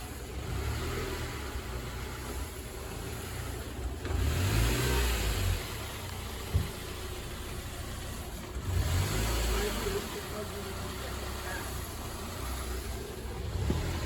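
A 2012 Mazda 6 with a newly replaced clutch runs close by, its engine idling and revving in steady swells as the car is eased into gear, with faint voices underneath.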